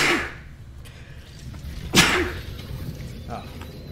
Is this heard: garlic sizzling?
no